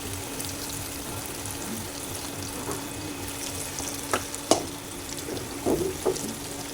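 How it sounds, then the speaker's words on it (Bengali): French fries, boiled beforehand, fry in hot oil with a steady soft sizzle and a few sharp pops and stirring clinks toward the end, close and moderately quiet with no talk. "স্যুপের সাথে এখানে ফ্রেঞ্চ ফ্রাই করবো"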